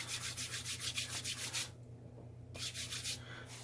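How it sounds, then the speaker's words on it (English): Beard product rubbed briskly between the hands makes a rapid, close, dry rubbing sound with a pause partway through before the rubbing resumes. "get some out and rub it in my hands"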